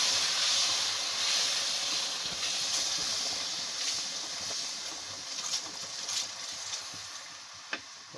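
Water poured into a hot pan of semolina for halwa, setting off a strong steady hiss of steam that slowly fades, with faint ticks and crackles near the end.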